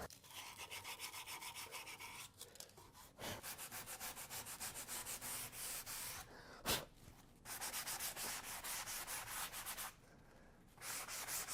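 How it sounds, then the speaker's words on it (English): Sandpaper is rubbed by hand along the edge of a chalk-painted dresser in quick rhythmic back-and-forth strokes, heard in several bursts with short pauses and one sharp knock, close and fairly quiet. "I'll just clean it up a little bit with the sandpaper"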